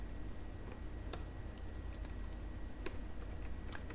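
Steady keyboard typing while writing an h1 tag in code: a quiet run of light, irregular key clicks with a few sharper taps, no talking, over a low background hum.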